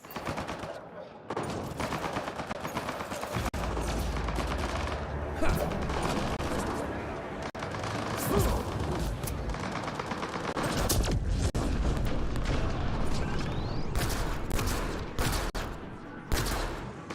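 Automated turrets in Mass Effect: Andromeda firing at enemies, long bursts of rapid gunfire with sharp crashes and booms, loud and close, with scattered combat noise between volleys.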